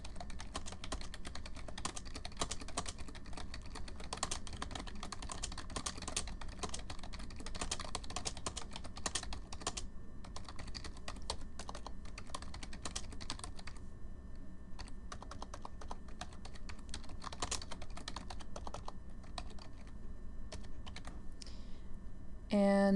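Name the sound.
typing a letter on a computer keyboard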